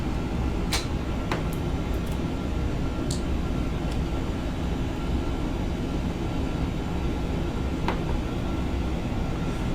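Steady, dense engine roar of a simulated MD-11 airliner climbing in clean configuration at about 276 knots, a continuous broadband rumble filling the clip with a few faint clicks near the start.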